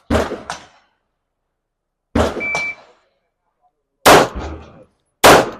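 Handgun shots ring out on an outdoor shooting range: four sharp, loud reports about two seconds apart, each with a short ring-out and silence between.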